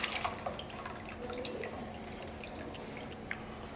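Bacon grease being poured off from a frying pan, a soft trickling and dripping stream with small splashes, fairly quiet and close, no voices.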